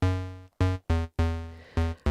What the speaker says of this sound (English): So we've got a bass here